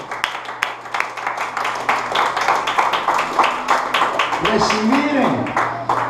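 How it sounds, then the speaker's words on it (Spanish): A church congregation claps in rhythmic bursts during a Spanish-language worship service, the steady hand claps mixed under a pastor's voice and other voices. "Mátenle un fuerte aplauso al Señor"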